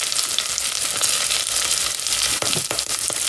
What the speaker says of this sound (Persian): اینا رو یه ذره رو روغن شروع میکنم تفت شده